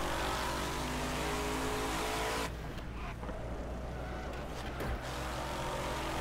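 A loud, continuous race car engine roar from Wreckfest driving gameplay, droning steadily and then shifting to a rougher, throatier rev partway through as the car turns, with no pauses.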